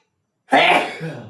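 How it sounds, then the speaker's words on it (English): A single sharp sneeze bursts out close to the listener after a moment of silence, trailing off quickly. "I am sneezing because the temperature is going to be changed"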